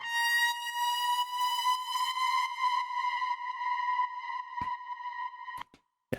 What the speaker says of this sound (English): It was just a one shot, and it was a bit more of like an atmosphere sound.